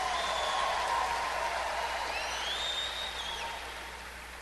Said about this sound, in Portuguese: Ah, pode ser mais forte, está muito fraca essas palmas.